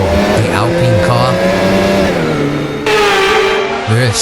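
Formula 1 race cars, including an Alpine car, in the Assetto Corsa racing game at the Australian Grand Prix: engines rev and shift pitch continuously, loud and close, with a sharp change near the end, under steady commentary.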